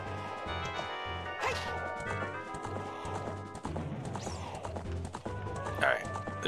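A horse gallops in a Zelda game while hunting Big Poes, its rapid hoofbeats mixed with game music, clanking hits and other effects.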